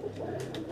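A black-faced show-breed pigeon coos softly at night, a short low throaty call close by in a quiet home setting.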